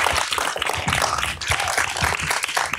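Panel audience applauding at a cannabis social justice event, a dense steady wash of many hands clapping close by that holds evenly for the whole stretch.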